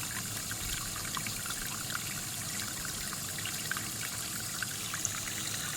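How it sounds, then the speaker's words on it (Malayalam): Water runs steadily into a small homemade tarpaulin-lined pond, a continuous soft trickling and splashing rush heard close and even throughout, with no voices. "വെള്ളം ഇത് നിറഞ്ഞുകൊണ്ടിരിക്കുകയാണ്"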